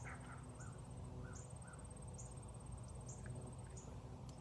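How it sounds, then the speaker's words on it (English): Several birds call in a park, short chirps and whistled notes repeating at fairly even intervals over a steady outdoor hum, moderately distant and soft, with a faint high sustained tone behind them. "lots of birds."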